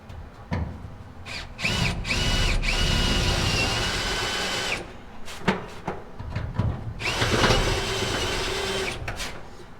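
A power drill boring out a spot weld on the metal of a 1970 Dodge Charger 500, two loud sustained bursts of whining drilling with short grinding starts and pauses between them.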